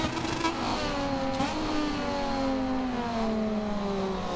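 Racing motorcycle engines in the video game MotoGP 24, a steady high-pitched drone with gear shifts and a brief pitch dip, loud and continuous.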